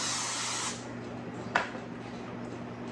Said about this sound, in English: I'm going to spray it with no stick spray